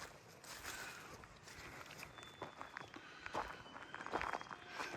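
Soft, quiet footsteps circle slowly around a 1969 Alfa Romeo Giulia Super 1600, irregular light steps with faint background ambience.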